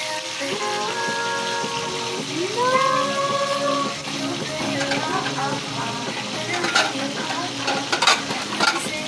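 Food fries in a pan with a steady, fairly loud sizzle and occasional stirring clatter, while voices talk faintly over it.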